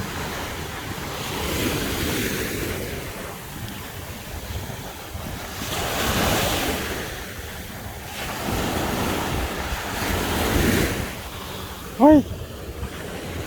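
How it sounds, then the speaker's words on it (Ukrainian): Ocean waves surge and recede in slow, rolling swells along a waterfront in Bal Harbour, Miami, mixed with gusty wind buffeting the microphone and a brief whistle-like tone near the end. "мене хвилі достають."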